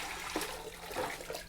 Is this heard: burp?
no